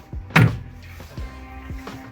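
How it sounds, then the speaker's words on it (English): A door in a camper van bathroom is pulled shut with a quick, sharp latch thud, followed by a few softer knocks and rustles in the small, enclosed space. "Can I close the door?"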